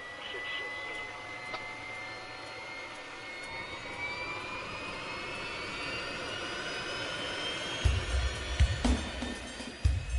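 Ilyushin Il-62M jet airliner on the ramp with engines spooling up after pushback, a faint rising turbine whine with whistling tones building over a low background rumble, with some thumps near the end.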